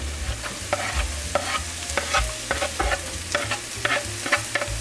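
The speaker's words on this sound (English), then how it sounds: "It's time to add the onions and the garlic." Onions and garlic sizzle and fry in butter in a pan while a utensil scrapes and stirs in irregular strokes, close up with no talking.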